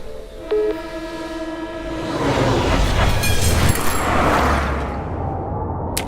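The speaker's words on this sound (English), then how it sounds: "I'm at the subway station right now" A train passes through a subway station: a horn sounds early, then the rolling rumble and rattle of carriages swells loud and close before easing off, with no voices.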